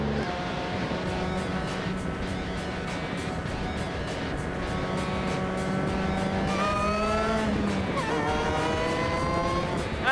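A supercharged Ariel Atom lightweight open sports car driving, its engine note climbing through gears with rising harmonic whine and a brief shift dip, steady and fairly close.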